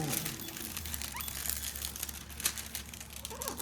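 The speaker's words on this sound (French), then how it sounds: "Ici, on a juste à réaplatir comme il faut pour enlever là, les plis." A crinkled diamond painting canvas is pressed flat by hand, giving soft, close crinkling and rustling of the stiff sheet, fairly quiet and without speech.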